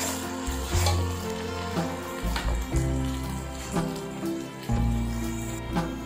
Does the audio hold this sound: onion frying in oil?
yes